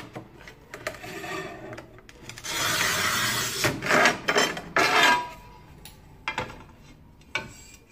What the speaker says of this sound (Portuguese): E agora ele tá cortando os rodapé.